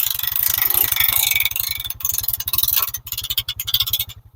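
Portable sawmill cutting through a log in winter forest conditions, a steady close, loud pulsing engine drone with a fast regular rhythm and harsh scraping blade noise running throughout, cutting off abruptly at the end.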